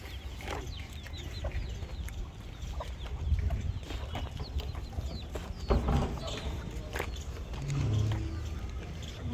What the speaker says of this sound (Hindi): ये थोड़ा मुर्गी वगैरह फार्म पे अच्छा होता है।